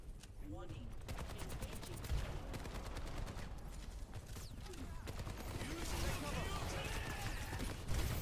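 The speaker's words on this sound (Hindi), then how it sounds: "गोलियां मारते रहो बस" Rapid bursts of Overwatch 2 gunfire crackle in quick repeated volleys, fairly faint, with a voice talking over them.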